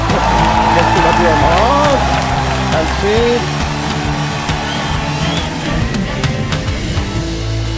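Studio audience at a celebrity talk show applauds and cheers, a dense wash of clapping with whoops layered over a loud backing music bed that runs throughout.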